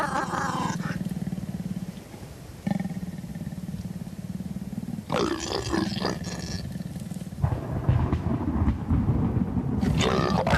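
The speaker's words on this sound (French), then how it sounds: "Des rugissements de lions perturbent l'intimité du couple de léopards." Lions roar at night in long, deep, rumbling calls, loud and fairly close, with a sustained low growl running between the stronger bursts and no other sounds intruding.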